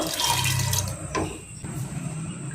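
Water runs and splashes steadily into a cooking pot for a couple of seconds, a close, continuous pouring sound with no talking.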